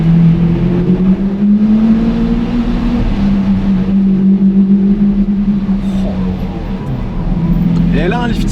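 A Lamborghini Murciélago LP-580 V12 with a manual gearbox drones loudly and steadily from inside the cabin while driving, its deep engine resonance constant throughout and overlaid by talking.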